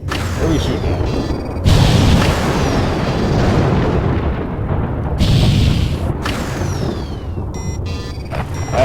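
Heavy bomb explosions boom and rumble in the space combat game Freespace: Between the Ashes, with repeated loud blasts, whooshes and dense continuous roar, and brief quieter gaps between bursts.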